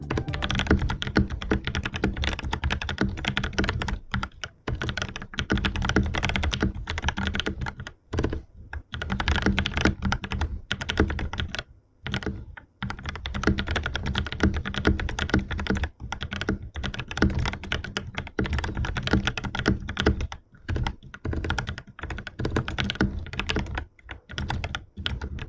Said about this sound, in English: it wouldn't be a keyboard video without a proper sound test